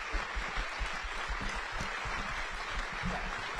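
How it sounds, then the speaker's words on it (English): Audience applause for candidates at a US House 2nd District debate, a dense steady wash of clapping filling the room at moderate loudness, with no voices standing out. "Please join me in applauding all of these wonderful candidates."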